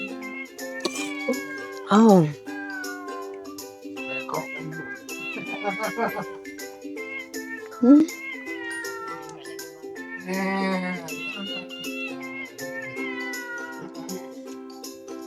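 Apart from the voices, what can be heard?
cat meowing at a cat garden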